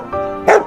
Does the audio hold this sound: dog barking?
yes